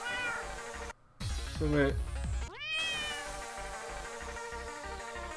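A cartoonish cat meows in the game Techno Kitten Adventure, giving a few sharp, pitch-sliding meows and yowls over a thumping electronic beat while someone speaks briefly.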